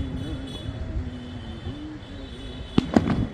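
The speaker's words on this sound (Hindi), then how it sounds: "ये आवाज़ सुनते ही परिंदे इन पटाखों से डर जाते हैं" Firecrackers pop twice in quick succession near the end, sharp loud bangs over a steady hum and faint tonal background sound.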